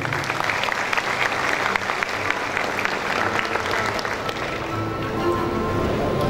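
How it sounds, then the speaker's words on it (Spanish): An audience at the official inauguration of the Agroshow Copronar 2024 agricultural show in Alto Paraná gives sustained, dense applause that stays steady, then thins slightly near the end. "Fuerte el aplauso de los presentes."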